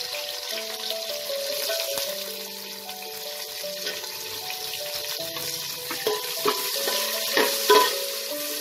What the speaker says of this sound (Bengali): পেঁয়াজটাকে আমি হালকা ব্রাউন করে ভেজে নেব